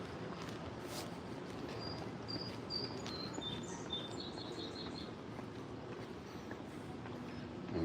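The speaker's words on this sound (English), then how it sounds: "there'll be all kinds of cool birds here making noises randomly" Birds at San Diego Zoo give high, thin calls and chirps at a distance over a steady outdoor hum of insects and ambient noise, faint and scattered.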